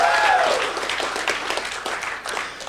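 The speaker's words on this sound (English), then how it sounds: "For those of you cheering Napster" An audience at a Jello Biafra talk bursts into loud applause and cheering that fades gradually over a few seconds, with a brief whistle near the start.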